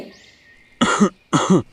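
Two sharp, close coughs in quick succession, each a short harsh burst, separated by a brief quiet pause.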